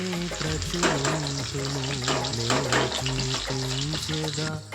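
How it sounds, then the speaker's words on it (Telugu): Chopped onions and three green chillies sizzle steadily in hot oil for a curry, a continuous crackling fry with a strong tonal, melodic layer running over it throughout. "ఇందులోకి వేసిన తర్వాత మంచిగా వేయించుకోండి."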